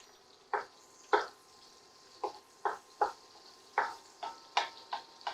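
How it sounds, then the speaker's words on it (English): Garlic frying in a bouillabaisse pan while marinara sauce is being made, with a low sizzle under a series of sharp, evenly spaced spoon scrapes and stirs, close and fairly loud. "you don't want the garlic to brown too much. You just want it to get a little toasty look around the edges."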